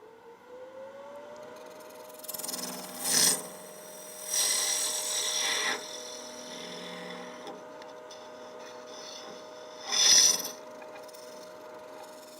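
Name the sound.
carbide tool turning laminated paper blank on lathe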